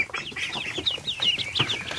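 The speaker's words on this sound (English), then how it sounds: "Look at the cute little duckies." Crossbreed ducklings peep in quick, high, repeated chirps with soft scuffling underneath, close by and steady, with no talk.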